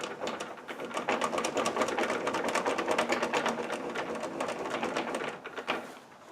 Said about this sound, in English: So let's raise up the blade a bit.